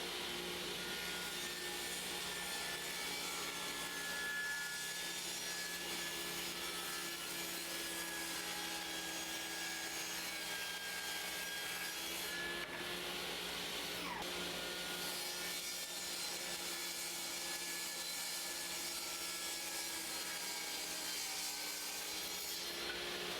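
A Skilsaw 10-inch wormdrive table saw, model SPT99-11, runs through half-inch and three-quarter-inch plywood, a steady droning whine with a shifting pitch that holds for over twenty seconds at moderate distance with no talking.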